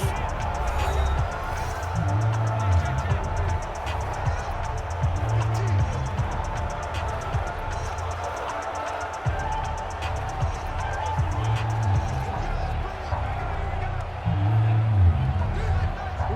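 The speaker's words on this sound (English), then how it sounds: "The crowd getting into it as we come up on a big 3rd down." A large stadium crowd in Madden NFL 20, Chiefs versus Rams in Los Angeles, roars steadily with swelling cheers and murmuring babble, while an announcer's voice talks over it.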